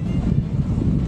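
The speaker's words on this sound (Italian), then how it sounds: "Vento su in vetta" Strong wind buffets the microphone on the summit of Monte Argatone in the Abruzzo mountains, making a loud, low, continuous rumbling gust with no voices.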